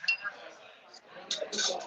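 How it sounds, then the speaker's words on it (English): A fresh strawberry is muddled in the bottom of a cocktail glass, giving a few light clinks and soft squishy knocks of glass and tool, scattered over the short stretch and loudest near the end. "I'm just going to throw in the bottom of my glass and muddle it up a little bit to get the juices"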